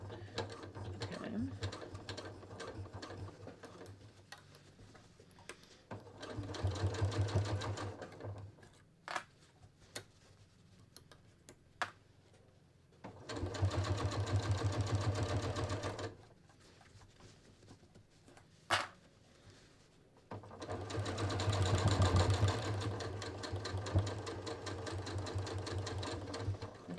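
A sewing machine stitches and back tacks denim while tapering flared ready-to-wear jeans, running in three loud sustained bursts separated by quieter pauses with small clicks and handling noise.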